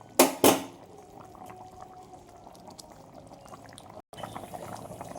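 Potato and meat curry bubbling in a pot, a soft steady simmering burble heard close, opened by two sharp knocks and briefly cut near the end before the bubbling resumes.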